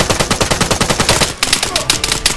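Rapid automatic gunfire in the Arma 3 battle royale game, a steady burst of close, loud shots in quick rhythm that thins out toward the end, with no talk over it.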